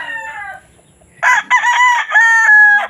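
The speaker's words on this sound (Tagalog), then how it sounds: "Ganda ng manok." A fighting rooster crows loudly and close by, a long harmonic call stretched over a couple of seconds, with a few softer cackles just before it.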